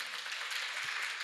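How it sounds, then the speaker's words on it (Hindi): Steady wash of audience applause at a spiritual talk, dense and even throughout, moderately distant with no clear individual claps standing out. "हमारी संस्कृति के लिए जोरदार तालियां"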